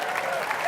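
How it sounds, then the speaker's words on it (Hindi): A studio audience claps steadily for comedian Johnny Lever at a televised comedy stage show: dense, even, sustained applause filling the whole short moment. "तालियां हो जाएं जॉनी लीवर के लिए।"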